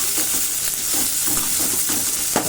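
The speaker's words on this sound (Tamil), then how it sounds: "வெங்காயத்தை வந்து நல்லா நம்ம வதக்கி விட்டுக்கணும்." Onions sautéing in a pan for chow chow kootu, a dense close hiss of frying with soft irregular stirring knocks, no talking.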